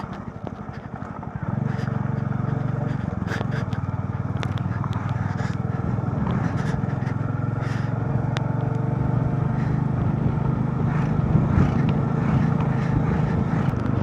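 Bikers' motorcycles pass along a mountain road in Ladakh, their engines a loud, steady drone that swells in suddenly and holds without a break.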